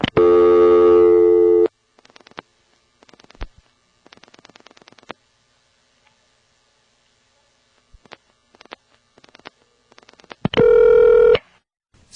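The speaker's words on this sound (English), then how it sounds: "Dead silence in between the digits of the number you were dialing." A vintage telephone line gives a loud steady tone at the start and end. Between them come short bursts of dialing pulses separated by dead silence between the digits.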